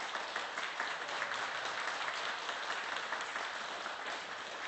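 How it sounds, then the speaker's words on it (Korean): Congratulatory applause from a church congregation after an appointment ceremony at a Sunday Mass; a sustained wash of many hands clapping evenly throughout, moderately loud and without speech. "축하의 박수 부탁드리겠습니다."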